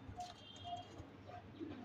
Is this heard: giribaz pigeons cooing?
yes